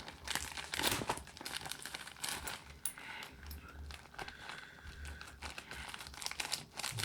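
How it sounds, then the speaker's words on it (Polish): Close paper crinkling and ripping, irregular bursts of tearing and rustling as a stiff, firmly glued envelope is pulled apart, with no speech. "myślałem, że kopertę da się łatwo otworzyć, a tu niestety klej bardzo mocno przywarł"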